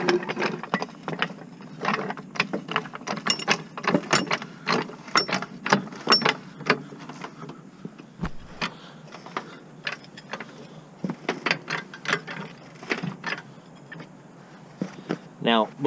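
Rapid mechanical clicking and ratcheting of a car jack raising a 1994 Honda Integra under a pinch weld, steady repeated clicks, close by, with someone talking over it.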